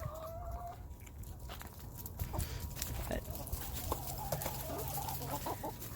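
A flock of chickens clucks and murmurs around an empty chicken feeder outdoors, with a busy, continuous chorus of close and overlapping calls and a brief voice near the start.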